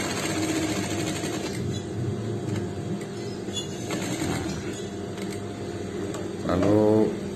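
A sewing machine stitches a shirt placket for a Pakistani-style garment, running at a steady, close, continuous mechanical whir the whole time, with a short louder burst near the end.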